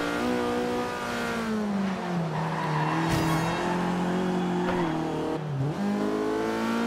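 A car engine in Forza Horizon 2 drones loud and close, its pitch climbing and dipping through gear changes, with brief tyre squeals, and no one talks over it.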